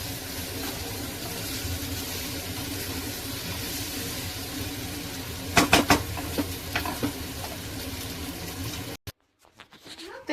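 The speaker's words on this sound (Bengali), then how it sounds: "জলটা শুকনো হওয়া পর্যন্ত ভালো করে মিক্স করে এটা ভেজে নেবো" Pasta being stirred and fried in a pan until the water dries off, a steady close sizzle with scraping stir strokes, a short burst of louder utensil clatter midway, then the sizzle cuts off abruptly near the end.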